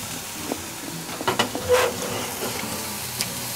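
Garlic butter shrimp sizzle gently in a pan, a soft continuous hiss broken by a few brief spits and clicks, close but fairly quiet.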